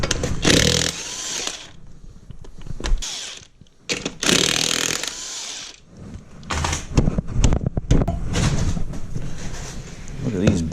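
A power tool removes the lug nuts from a Ford F150 truck wheel in loud, close bursts of whirring and rattling, with short pauses and mechanical clunks between them.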